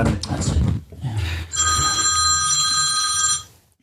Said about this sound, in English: Matt, see his phone's going now.